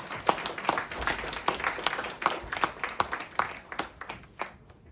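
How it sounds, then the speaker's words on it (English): An audience at a Vietnam War Veterans Day ceremony claps, with distinct hand claps standing out sharply in an uneven, fairly close round of applause. "I just want everyone to give a big hand of applause"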